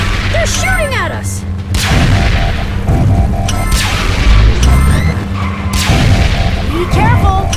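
Cartoon gunfire and explosions from an animated Transformers Rescue Bots battle against Morbots, with loud crashes, booms and laser-like zaps throughout, mixed with whooshing effects and a dense musical score.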